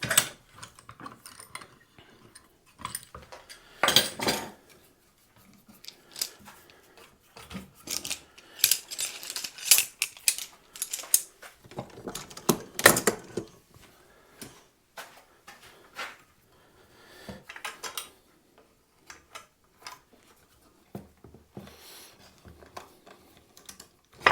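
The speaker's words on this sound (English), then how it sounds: "So we'll just work our way around and get all the clamps off." Metal clamps being loosened and taken off a glued guitar body, ratcheting clicks and rattling metal clanks in scattered bursts up close, quiet gaps between them, with no talking.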